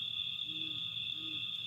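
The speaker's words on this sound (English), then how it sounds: "I have hoot owls up here." Hoot owls call at night from a hillside campsite, two low soft hoots a moment apart, heard from a distance over a steady high drone of crickets, with no talking.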